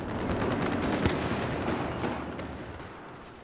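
Gunfire in the first-person shooter Battlefield 4, dense rattling shots and a few sharper cracks over a continuous roar of battlefield noise, loud and steady throughout.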